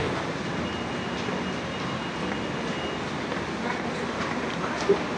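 An MRT train at North Station in Manila gives a steady, broad rumble of rail noise throughout, with a faint voice under it and a brief click near the end.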